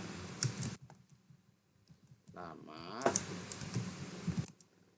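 Computer keyboard typing while writing Visual Basic code, quick clustered key clicks in short bursts, with a gap of quieter sound in the middle, close and moderately loud.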